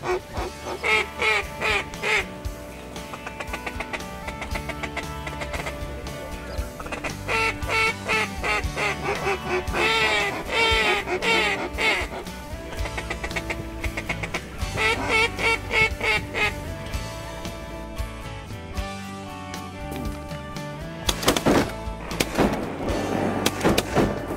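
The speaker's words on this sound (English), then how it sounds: "Now these birds are starting to work these decoys a lot better, Craig." Ducks quack loudly and continuously around hunting decoys on a waterfowl hunt, many overlapping calls close by with rhythmic bursts throughout, busiest near the end.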